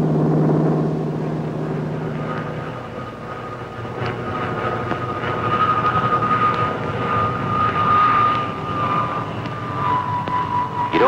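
Grumman F6F Hellcat fighter from around 1944, its piston aircraft engine droning loudly and steadily throughout, with a rising tonal whine in the middle and no voices.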